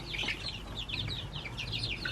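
Chickens and young chicks cluck and chirp continuously at close range, with repeated high calls over a low steady background hum, no talking.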